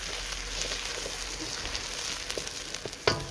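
Onions frying over very high heat outdoors for a chana masala give off a steady, close, crackling sizzle, with a sharp clatter of a utensil near the end.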